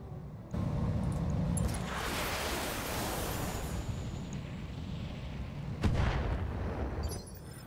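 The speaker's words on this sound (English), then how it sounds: "I want to fire off my artillery before I do anything else." Artillery firing in the mech game BattleTech (BTA3062 mod): a heavy booming launch followed by a long roaring rumble and a sharp second blast near six seconds, loud and close, no talk.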